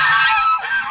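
Turkeys on a farm let out a short burst of loud, honking calls, close by and heard on their own.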